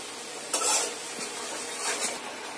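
Chicken meat goes into a pan of spiced masala with cardamom, cinnamon and cloves, giving a steady close sizzle broken by a few sharp stirring scrapes.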